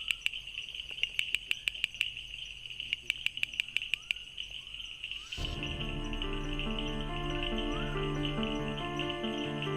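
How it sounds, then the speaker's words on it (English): A male bush frog in a natural garden calls with bursts of sharp, rapid clicks over a steady insect drone, before a louder continuous wash of sound takes over. "That's one male bush frog displaying."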